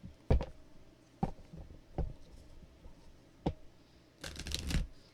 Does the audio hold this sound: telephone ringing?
no